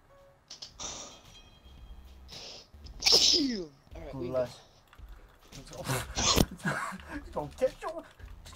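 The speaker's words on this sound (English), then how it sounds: "Hold on, don't start, I gotta sneeze." Talk is broken up by a sharp, sudden sneeze burst, followed by more speech and quick rustling sounds.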